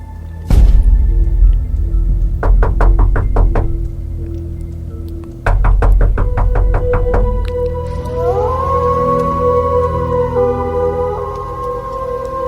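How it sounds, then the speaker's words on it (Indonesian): Knocking on a back door, two bursts of rapid, evenly spaced raps over a low droning background, followed by a rising, whistling tone. "terdengar suara ketukan di pintu belakang"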